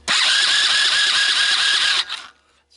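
A Sunl 110ST ATV engine is turned over by its electric starter, a loud, buzzing whir that runs steadily for about two seconds and then cuts off abruptly into near silence.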